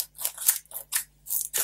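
Scissors snip through paper card, close and crisp, in a quick series of about five sharp cuts with brief pauses between them.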